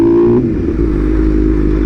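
A BMW S1000RR sport bike engine revs up close as the rider prepares to pop a wheelie, a loud, steady low roar with rising throttle and a faint clatter.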